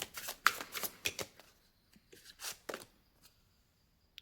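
Tarot cards shuffled close up during a reading, a quick run of crisp riffling slaps and flicks that thins out into a few sparse taps as a card is drawn, in an otherwise quiet room.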